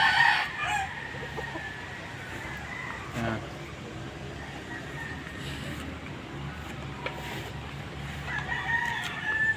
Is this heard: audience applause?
no